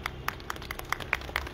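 Scattered, fairly faint handclaps from an audience at a PWD silver jubilee lucky draw ceremony, irregular and thin rather than a full ovation.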